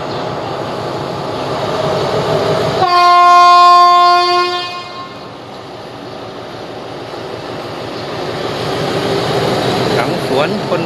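A train idles beside a platform at Kui Buri railway station in Thailand amid steady rumble, and a loud multi-tone horn sounds for about two seconds before fading back into background noise and faint talk.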